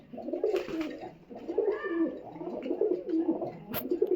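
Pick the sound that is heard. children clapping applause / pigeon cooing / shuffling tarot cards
pigeon cooing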